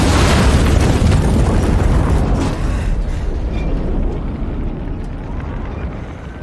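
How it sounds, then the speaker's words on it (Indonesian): A film explosion at a robbery scene erupts as a loud, close boom with crackling debris, then rumbles and slowly fades over several seconds. "ledakan itu seketika membuat Ruth pada akhirnya baru percaya bahwa ancaman Noah bukan hanya sekedar gertakan semata."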